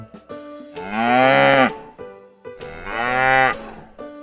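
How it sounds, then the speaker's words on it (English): A cow moos twice, long, loud and near, each low call swelling and falling away, with a brief gap between them. "Cow."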